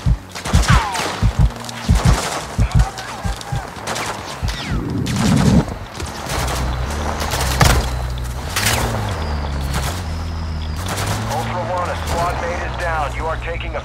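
Gunfire in the Call of Duty Warzone 2.0 video game: sharp shots and bursts crack repeatedly, near and loud, over a droning vehicle or engine hum, with voices talking throughout.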